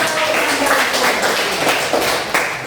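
Classroom group clapping during a lesson on Jesus calling his disciples, a brief burst of uneven hand claps with individual slaps standing out, fairly close, with some voices mixed in.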